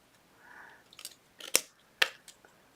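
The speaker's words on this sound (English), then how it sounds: "a couple of snips" Two sharp snips of jewelry wire cut with cutters while making a wire-wrapped bead pendant, crisp and close, spaced about half a second apart, with light handling rustle before them.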